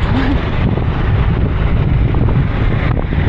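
Cold wind roars steadily and loudly across the microphone during an early-morning motorcycle ride toward Baguio via Kenon Road, a constant buffeting rush with no pauses.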